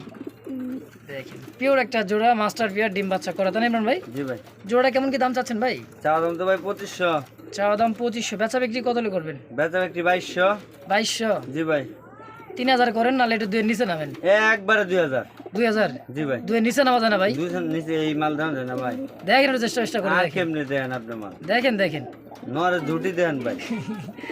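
Pigeons cooing in a breeding loft, repeated throaty rolling coos overlapping from several birds close by, with someone talking over them.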